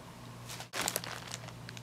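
Plastic bags crinkle as a pet plays with them nearby, with a brief pause and then a burst of sharp rustling that continues irregularly.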